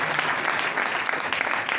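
Audience applause after a call for loud clapping at a Hindi motivational talk, a dense, steady round of many hands clapping close and loud throughout with no speech over it.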